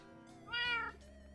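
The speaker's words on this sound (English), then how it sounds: "That's your clue. My cat." A pet cat gives one clear, close meow that rises and falls, with a low steady background hum.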